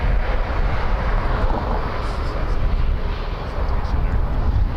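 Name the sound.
Learjet business jet flying past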